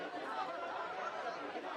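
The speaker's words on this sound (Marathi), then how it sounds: "भाजप आणि शिवसेनेच्या कार्यकर्त्यांचा जल्लोष सुद्धा आपल्याला ऐकायला येतोय।" Crowd of BJP and Shiv Sena party workers celebrating an election victory, a steady murmur of many voices and chatter with scattered laughter, dense and continuous throughout.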